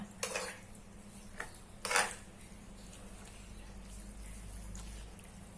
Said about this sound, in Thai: คนส่วนผสมทุกอย่างให้มันเข้ากันก่อนนะจ๊ะ